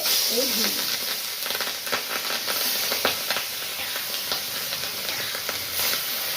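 Fish sizzling and crackling in hot oil in a wok, a steady loud frying hiss with small pops and spatters throughout.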